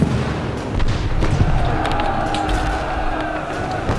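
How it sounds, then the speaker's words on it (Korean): Dramatized naval battle with cannons firing toward a harbor: a dense, continuous rumble of booms and blasts with crowd-like shouting, loud throughout. "포구를 향해 화포를 쏴라."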